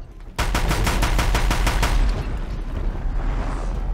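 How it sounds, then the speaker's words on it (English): The Deathbringer, a heavy mounted gun in the video game Horizon Zero Dawn, fires a rapid burst of about a dozen loud, evenly spaced shots, followed by a lingering rumbling echo. "Got my Deathbringer gun."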